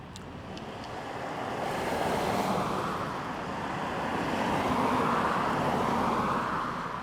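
Cars passing on a road, a broad rushing roar that swells and fades as vehicles go by, heard from the roadside with some wind buffeting the microphone.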